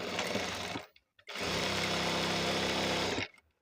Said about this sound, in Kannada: ಇವಾಗ ಇದು ಸ್ಟಿಚ್ ಮಾಡೋಣ